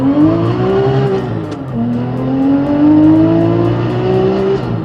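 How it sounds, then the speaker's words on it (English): A Porsche GT3 launching hard off the line with wheel spin, its engine loud and close as it climbs steadily through two gears with a brief dip at the shift. "Let's see if we can get some wheel spin off the line."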